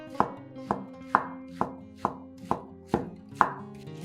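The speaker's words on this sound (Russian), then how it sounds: "200 грамм крабовых палочек разрезаем вдоль пополам, а затем нарезаем их небольшими кусочками" A knife chopping crab sticks into small pieces on a board, seven crisp, evenly spaced chops, close and clear with nothing else around them.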